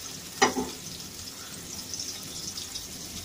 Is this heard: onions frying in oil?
yes